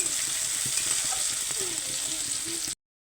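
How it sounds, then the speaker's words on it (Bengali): Chopped tomatoes with onions stir-fry in a hot pan for mashed potato, a steady close sizzle broken by scraping and stirring of a utensil, with no talking. "টমেটো কুচি দিয়ে এটাকে নেড়ে চেড়ে লাল করে নেব।"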